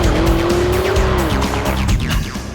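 A 2021 Lamborghini Urus accelerates hard with a loud, close, sustained engine roar that holds steady and then climbs in pitch as it pulls through a gear.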